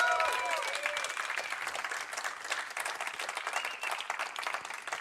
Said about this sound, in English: let's hear a round of applause right now